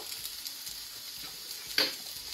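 Onion frying in a little oil until light brown for a Mangalore crab masala gives a soft, steady sizzle, with one brief utensil clink partway through.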